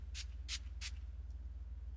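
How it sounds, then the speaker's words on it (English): Makeup setting spray is misted onto a face in three quick, close bursts of airy hiss, then quiet with a steady low hum underneath. "Then I spray a little bit of setting spray"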